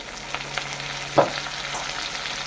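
Tomato goes into a hot pan while cooking a prawn curry with taro and drumsticks, a steady close sizzle with a sharp burst of spitting as it lands.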